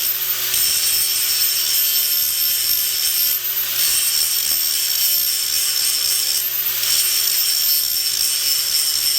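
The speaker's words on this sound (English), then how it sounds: "You just got to be able to hold this grinder." A handheld grinder works a bevel with a steady, harsh, high-pitched grinding whine, continuous and close, with slight dips in pressure but no pauses.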